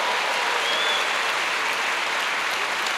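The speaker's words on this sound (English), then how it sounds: "Can you give a round of applause one more time to our awesome boys and girls?" Concert audience applauding at an Americana concert, a dense, steady wash of clapping that fills the whole three seconds at close, loud level with no voices on top.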